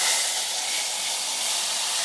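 Hot tadka poured into lentil dal of mash and chana, a loud, continuous hissing sizzle up close that holds steady for a couple of seconds.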